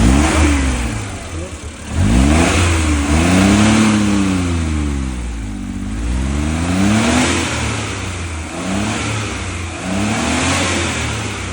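A car engine with faulty valves revs and surges repeatedly, its rough rising and falling pitch loud and close while the vehicle shakes.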